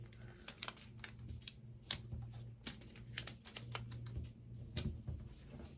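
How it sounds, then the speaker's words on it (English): Tape is pulled and pressed down to join sheets of paper for sewing pattern making, giving a run of crisp crinkles, rips and taps at close range, irregular and without speech. "tape a couple pieces of paper together to give myself some pattern making supplies"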